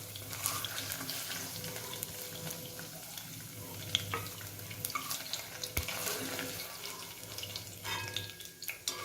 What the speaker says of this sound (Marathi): तुम्ही बघत आहात आपलं पनीर असं तळत आलंय।